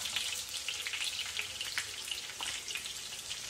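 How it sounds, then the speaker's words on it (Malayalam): Chicken pieces deep-frying in hot oil for a Schezwan Manchurian give off a steady, dense sizzle with fine crackling pops, faint and continuous throughout, with no voices. "നമുക്ക് ചിക്കൻ പീസ് ഒരു ഗോൾഡൻ ബ്രൗൺ ഷെയ്ഡ് വരുന്നത് വരെ ഫ്രൈ ചെയ്തെടുക്കാം."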